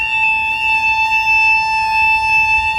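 A level crossing alarm at Niblock Road in County Antrim sounds a flat, unwavering electronic tone. It holds steadily and loudly throughout, with faint background rumble and no voices.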